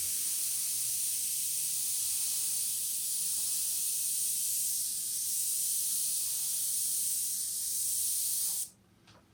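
An airbrush sprays paint onto a hand-lettered ALOHA sign in a steady, close, airy hiss that holds nearly constant for several seconds before stopping abruptly, leaving quiet room tone.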